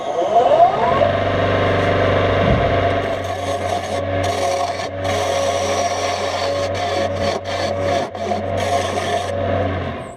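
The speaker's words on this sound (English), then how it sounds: "I'm going to go ahead and use this little skew here to re-true up my tenon" A skew chisel on a lathe re-trues the tenon of a spinning American elm bowl, producing a steady motor hum under a continuous rasping scrape with brief breaks as the tool lifts off the wood.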